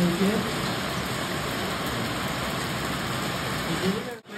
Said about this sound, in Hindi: अभी काफ़ी तेज़ बारिश आ रही है, आवाज़ तुमको आई रही होगी